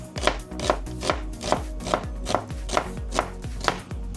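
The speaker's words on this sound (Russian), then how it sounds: "Лук нарезаем полукольцами." A knife chops through an onion into half-rings on a board, about ten crisp, evenly spaced cuts in a steady rhythm, close and clear with no talking.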